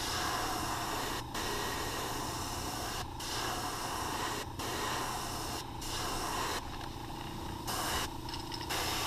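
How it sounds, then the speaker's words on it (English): An airbrush sprays paint onto a baby bass crankbait lure: a steady close hiss runs throughout, broken by brief pauses between passes, with no talking. "When you're spraying with your airbrush,"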